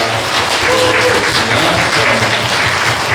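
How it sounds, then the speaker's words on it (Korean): A church congregation applauds to welcome guests during a Sunday service, producing dense, steady clapping that fills the whole moment with no voices over it. "우리 박수로 한번 환영하겠습니다."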